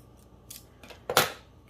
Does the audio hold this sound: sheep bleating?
no